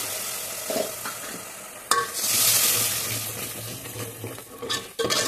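Close sizzling of spices in a pan with a spoon clinking and stirring in turmeric, a sharp knock midway and a louder hiss swelling after it.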